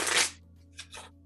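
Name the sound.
shuffling a deck of playing cards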